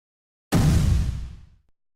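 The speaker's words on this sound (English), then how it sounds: "Let's first try it in this explosion." An explosion sound effect, pitch-shifted in Wwise audio middleware, bursts in suddenly after half a second of silence as a loud, broad blast that decays over about a second into a fading rumble.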